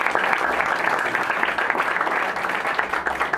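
Audience applause at a French-language award ceremony for a peace foundation, a dense steady wash of many hands clapping that holds at full level throughout, close and without pauses.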